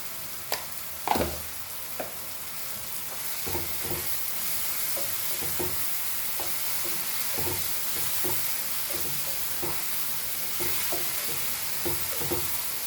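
Masala of onions and tomatoes fries in a pan for dal fry, a continuous close sizzle broken by regular spatula scrapes and knocks against the pot, the first few louder, with no talking.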